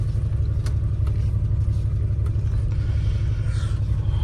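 A Murat-built Opel Kadett C engine idles with the throttle untouched, a steady low rumble running without a break, close and fairly loud, with faint clicks and light rattles on top.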